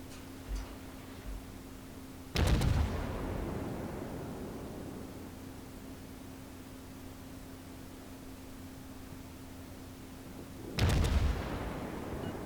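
USS Pensacola firing HE shells at the battleship Texas in World of Warships: two loud, sharp cannon salvos several seconds apart, each with a booming decaying tail, over a steady low ship engine hum.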